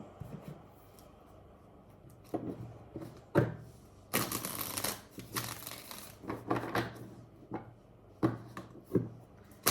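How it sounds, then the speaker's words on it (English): A deck of tarot cards is shuffled on a table in short bursts of riffling and sliding, separated by quiet pauses, close and fairly soft. "You wanna watch me shuffle?"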